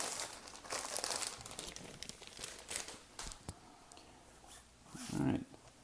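Packaging for a Kensington KeyFolio Thin X3 keyboard case is crinkled and torn open in several short, uneven bursts of crackling, close and moderately loud, ending in one fuller rustle.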